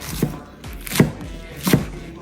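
A knife chops fresh spinach on a cutting board for a spinach omelette, three crisp, close thuds spaced evenly apart with quiet pauses between them and no talking.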